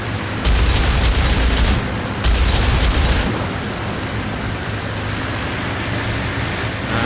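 Heavy WWII aircraft cannon fire with high-explosive impacts in the IL-2 combat game, two loud booming bursts about a second long each, followed by a rumbling engine drone with no talking.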